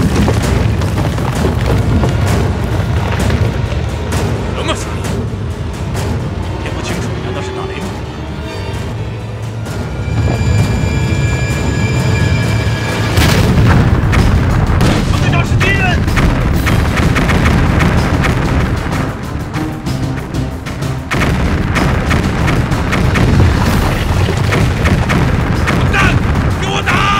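Gunfire in an action film battle scene set against Japanese troops, loud dense bursts of shots and booms running continuously with music and shouting voices mixed underneath.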